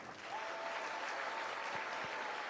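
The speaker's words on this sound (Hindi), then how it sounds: "तालियां कुछ कम आ रही हैं।" Steady applause from an audience at a spiritual question-and-answer gathering, a continuous even patter of many hands sustained throughout, moderately distant and fairly quiet.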